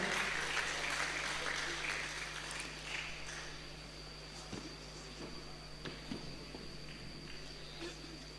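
Applause from a crowd at an inauguration ceremony for a sports committee chairman in Parepare, a steady spread of clapping that stays fairly even throughout, with a constant electrical hum underneath.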